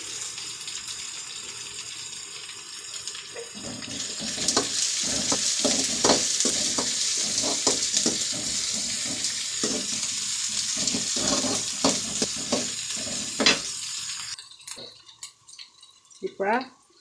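Curry leaves and green chilli crackle and sizzle loudly in hot oil in a pan, with a spoon stirring in repeated scrapes and someone speaking over the frying.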